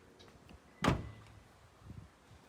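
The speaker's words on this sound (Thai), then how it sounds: "ปรับพับกระจกไฟฟ้านะคะ" Power-folding side mirror on a 2019 Toyota Revo Prerunner 2.4J Plus pickup, heard as one short, close mechanical burst with a motor whir against a quiet background.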